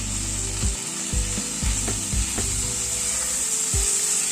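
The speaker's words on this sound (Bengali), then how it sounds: "আদা রসুন কাঁচা লঙ্কাটাকে একটু সবজির সাথে ভেজে নিচ্ছি।" Ginger, garlic and green chili fry with mixed vegetables in a hot pan, giving a steady, fairly loud sizzle broken by repeated clattering stirring knocks and scrapes.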